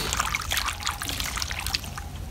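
Vegetables are rinsed in a bowl of water in a village kitchen, giving a steady close trickle and splash of stirred water with soft sloshing throughout, no voices.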